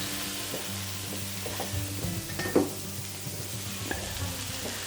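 Chicken tortellini for a southwestern dish sizzles steadily on a griddle, a close, even hiss of frying with scattered scraping and stirring clicks layered on top.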